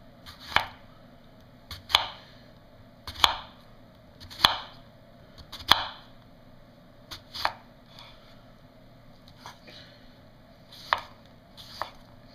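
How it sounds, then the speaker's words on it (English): A Kershaw Skyline knife slices through an apple in a string of about ten crisp, sharp cuts, some close together and others spaced apart, each one clear and close with no talking. "So I'm going to cut this apple with the Skyline, and this apple with the regular paring knife"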